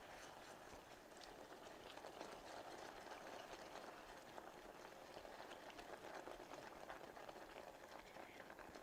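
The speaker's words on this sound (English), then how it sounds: "Yeah, it's definitely bubbling." Salted caramel cooks in a pot, giving a soft, continuous bubbling and frothing hiss at low volume that stays steady throughout.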